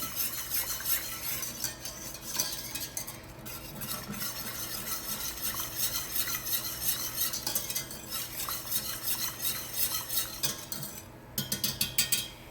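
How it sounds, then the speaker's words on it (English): A whisk scrapes and clinks steadily in a pot as a mixture thickens on the stove, with continuous close stirring and a faint sizzle underneath, and a burst of quicker metallic taps near the end. "And I'm whisking because I want to make sure that I get all the clumps, all the lumps out of it."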